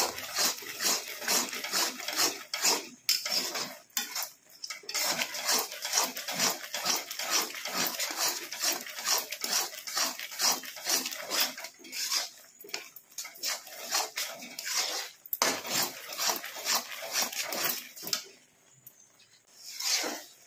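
Coconut laddu mixture being stirred in a pan as it thickens into a sticky syrup, giving a steady run of rapid scraping, slapping strokes, close and fairly loud, with brief pauses and no talk.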